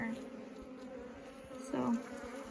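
Honeybees buzz around an open hive as a nuc is moved into a full-size box, a low, steady hum with one louder bee droning close past partway through.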